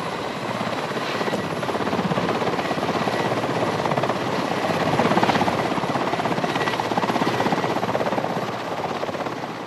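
A helicopter flies close by during a snow tiger capture operation, its rotor chop and engine whine loud and continuous throughout, growing slightly stronger midway, with no talking.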